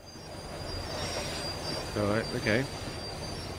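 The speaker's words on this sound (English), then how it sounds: "The tram was slowing down." A tram in the video game Max Payne 3 slows down, with loud, steady rail squeal and rumble throughout, and a voice speaking briefly over it.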